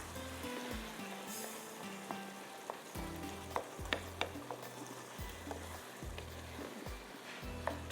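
Tomatoes frying in a kadhai over the flame, a steady close sizzle with repeated scraping and stirring clicks throughout, no one talking.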